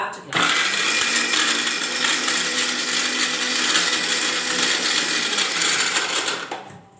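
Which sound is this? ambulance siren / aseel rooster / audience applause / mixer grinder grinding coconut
mixer grinder grinding coconut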